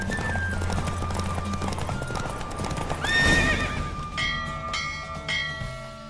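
Horse hooves clip-clop at a steady galloping pace in a horse race in the video game The Witcher 3, joined by a neigh and bright bell-like chimes toward the end.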